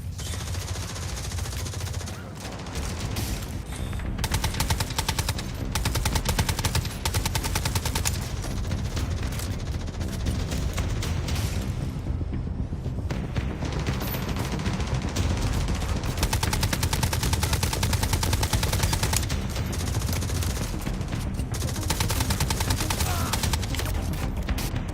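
Rapid, sustained shotgun and automatic gunfire in The Division Resurgence Dark Zone PvP, loud and dense throughout with a brief lull midway, a voice talking faintly underneath.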